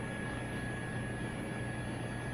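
Eurocopter EC135 helicopter in the FlightGear flight simulator: a steady, dense engine and rotor drone that holds level throughout, with no talk over it.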